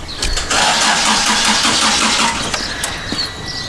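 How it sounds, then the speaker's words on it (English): A van engine cranking without catching: a continuous fast rhythmic churning of the starter motor, loud and close, running for several seconds with no voices. "it's cranking, but not turning over."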